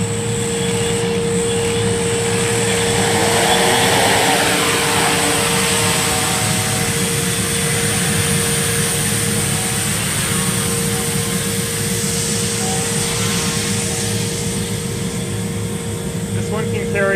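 A large quadcopter drone flies nearby, its rotors giving a loud, steady whine and drone that holds for the whole stretch and shifts slightly as it moves.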